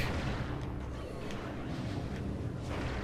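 Turret gunfire in Metroid Prime Remastered: a steady, dense roar of booming shots and blasts that runs continuously and loudly throughout, with no clear gaps between impacts.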